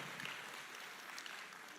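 Audience applause at a Democratic Party convention in Korea, a faint, distant continuous patter of clapping heard steadily throughout.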